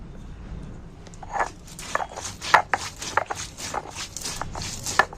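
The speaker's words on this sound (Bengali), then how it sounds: "ধনে মৌরি জিরে এই তিনটে মশলাকে আমি প্রথমে বেটে নিচ্ছি" Coriander, fennel and cumin are ground by hand on a grinding stone: irregular knocking and scraping strokes, close and fairly crisp, repeating unevenly across the stretch with no talk over them.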